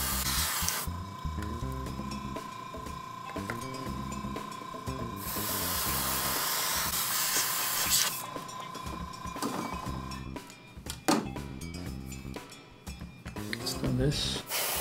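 An airbrush sprays clear coat onto an F-14A Tomcat model fuselage in steady close hissing bursts that start and stop, with a voice talking over parts of it.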